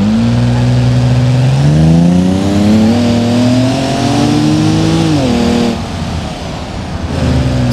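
A Land Rover Defender's engine hums loud and close while driving off-road up a snowy mountain track, its steady drone rising and falling in pitch as the driver accelerates and eases off.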